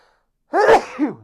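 A single sharp sneeze, close and loud, with a quick intake followed by a forceful burst and a short trailing exhale.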